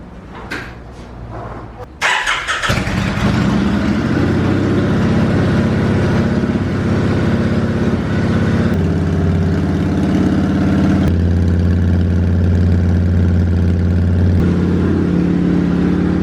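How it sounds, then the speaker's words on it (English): A 2001 Kawasaki Drifter 1500 motorcycle cranks briefly, then fires and settles into a loud, steady, rumbling idle close by, continuing alone without talk for over ten seconds. "Figured I'd start it up one last time before I tear it apart, because who knows, it might be the last time I ever hear it start."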